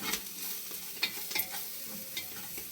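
Spices frying in a pan on a low flame for a green gram curry, a faint crackle under scattered metal spoon clinks and stirring scrapes, close by.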